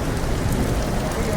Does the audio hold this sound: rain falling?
yes